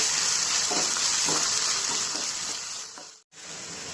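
Loud, bright sizzle of ginger frying in a pan with a few soft stirring scrapes, cutting out briefly near the end before resuming.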